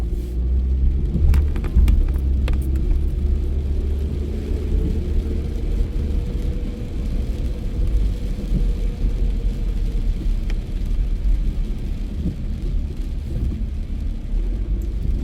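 A car drives through Paterson streets on a morning drive, crossing 7th Avenue from East 19th Street; a loud, steady low engine and road rumble runs throughout with a few light clicks and no talking.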